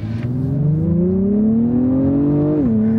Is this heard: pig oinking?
no